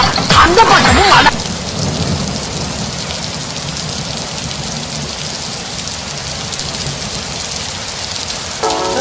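A rain-and-thunder sound effect plays at a school annual day rain dance, a loud steady downpour hiss with a rumbling swell at the start and no talk over it.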